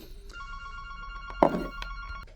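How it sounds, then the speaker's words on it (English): A telephone rings nearby in a steady electronic tone during a watch comparison, with a brief knock partway through and no talking. "Phone rang, I do apologise."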